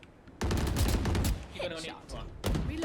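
Gunfire from the shooter Valorant, a rapid burst of close, loud shots followed by a short pause and another burst, with someone talking over it.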